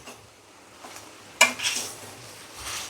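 Mashed potato, capsicum and onion stuffing for aloo paratha is stirred in a pan, with soft scraping and a sharp clink of a utensil against the metal partway through, plus a faint sizzle.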